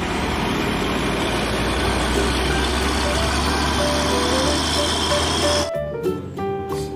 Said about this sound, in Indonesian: Widih, ada truk ekspedisi ADL teman.